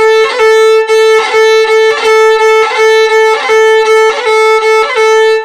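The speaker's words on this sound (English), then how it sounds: "There is such a thing as open string rolls. They sound like this." A bright, sustained drone holds steady while a melody line is ornamented with rapid rolled grace-note flurries, repeating in a lively, even rhythm, loud and close.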